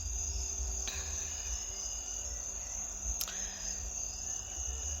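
Crickets chirp outside at night in a steady high-pitched continuous trill, with a couple of faint clicks and no talking.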